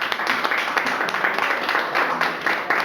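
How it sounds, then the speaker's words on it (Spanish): A church congregation claps and applauds during a service, a dense, even clatter of many hands that continues steadily from start to finish. "¿Cuánto le dan un aplauso al Señor?"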